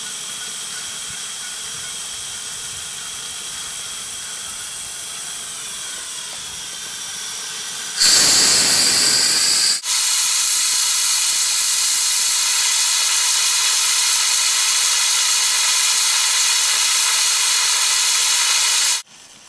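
Steam hissing loudly from a leaking fitting on a Lynx monotube boiler under test, a steady close roar that surges sharply for about two seconds, then holds strong before cutting off abruptly.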